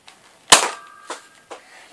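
Nerf toy blaster firing a blue dart, one sharp loud snap followed by a brief mechanical ring and two softer clicks of the spring mechanism, nearby and without talk.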